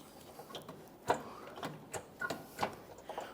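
Ratchet working loose a tight rear engine mount bolt on a 2014-2019 Toyota Corolla, heard as a string of sharp close clicks and clacks at uneven intervals, with no talking.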